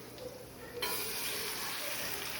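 Garlic tempering for chana dal hits hot oil in a home kitchen, a sudden sharp hiss that jumps up and then holds as a steady sizzle, fairly faint.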